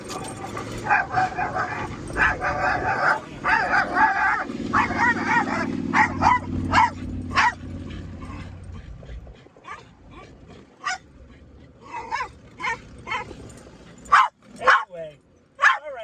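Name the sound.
dog barking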